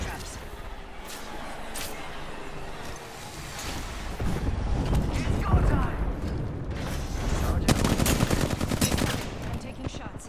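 Gunfire in a multiplayer battle royale shooter video game, with bursts of rapid shots and mechanical clatter from about four seconds on, loud and close, mixed with a player's voice talking over the action.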